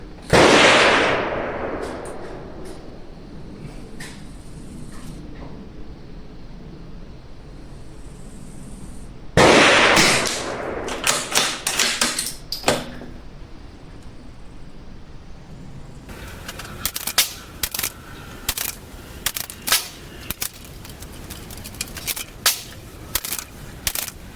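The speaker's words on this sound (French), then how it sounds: "Bon, alors là, les tirs d'essai." .22 LR rifle test shots from a Bergara B14R and a BMR Carbon: two loud sharp reports with ringing tails, then a run of quicker, lighter cracks and clicks spaced irregularly.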